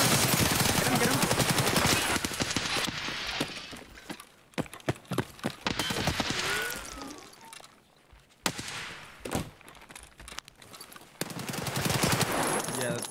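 AK rifle fire in a first-person shooter video game on the Shoreline map erupts in rapid bursts and separate sharp shots, loud at the start and end with quieter gaps between, while players talk over it.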